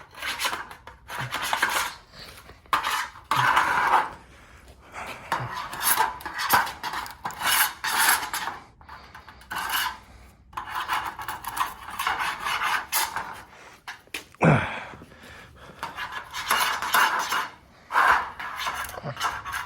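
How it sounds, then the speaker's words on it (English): Loose coating being scraped off metal roof flashing by hand, a close, repetitive rasping in uneven strokes with brief pauses between bursts. "I'm just gonna scrape off some of the loose coating"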